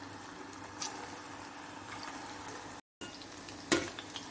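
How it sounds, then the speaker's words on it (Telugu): Small spoonfuls of raw mango pakodi batter dropped into hot oil for deep frying, giving a faint, steady sizzle and bubbling with a brief sharper crackle near the end, no voices. "ఆయిల్ బాగా వేడెక్కిన తర్వాత మనము ముందుగా కలిపెట్టుకున్నటువంటి పిండిని చిన్న చిన్న పకోడీలాగా వేసుకోవాలి"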